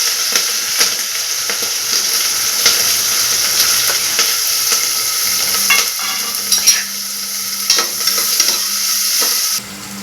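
Onions sizzle steadily in hot oil with mustard seeds and cumin, a dense bright frying hiss lasting throughout, broken by scraping stirs of a spatula against the pan; no voices.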